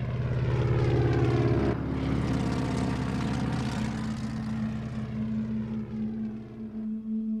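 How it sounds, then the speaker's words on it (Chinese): Propeller-driven fighter aircraft fly past, their engines droning in a loud, steady harmonic hum whose pitch shifts midway and then fades slightly toward the end, with no talk. "数十架由日本关东军驾驶的战斗机也开始从中国东北起飞"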